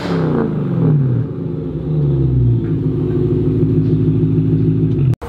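A straight-piped BMW M3 with a flame tune revs hard, its loud, raspy exhaust note rising and falling close by for several seconds before cutting off abruptly.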